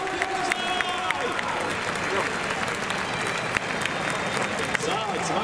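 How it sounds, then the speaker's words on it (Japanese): A baseball stadium crowd applauds as a judo gold medalist comes out to throw the ceremonial first pitch, a broad roar of clapping and crowd noise with a public-address voice speaking over it. "皆さんどうぞ大きな拍手をお送りください。"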